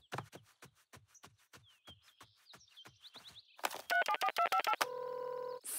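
A telephone being dialed: a row of quick clicks from a rotary-style dial, then a burst of bright touch-tone beeps and a steady tone, close and clear with no voices.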